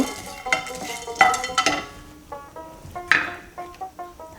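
Whole garam masala spices such as cardamom, cloves and cinnamon sticks dry-roasting in a pan, with scattered rattling, scraping and stirring clatter in irregular bursts, close and fairly quiet.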